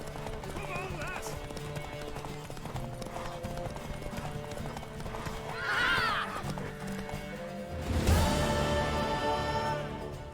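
A mare gallops in a horse race in the video game The Witcher 3, with steady clip-clopping hoofbeats, a loud whinny and people talking over the running.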